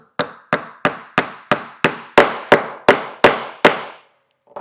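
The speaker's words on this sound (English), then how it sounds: "you can go ahead and hammer off that second nail" A hammer drives a nail into wood while building a portable wooden stool: about eleven sharp, evenly spaced blows, loud and close, each with a short ringing decay, then a pause and one final tap.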